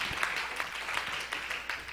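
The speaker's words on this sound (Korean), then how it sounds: "큰 박수 한번 해주시기 바랍니다" Congregation applause in a Korean church during a Sunday afternoon service, a steady medium-loud patter of many hands clapping together for a couple of seconds.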